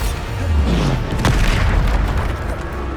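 A Bombarda explosion spell booms in Hogwarts Legacy, a loud low rumbling blast with a sharp crack near the middle, sustained by dense roaring debris noise throughout.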